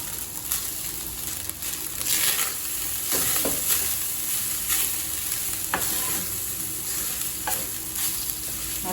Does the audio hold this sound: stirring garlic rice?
yes